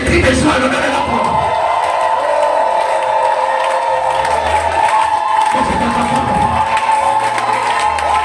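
A church congregation raises loud, continuous shouts and cheers of joy during a French-language worship service, a dense crowd roar that swells and holds throughout.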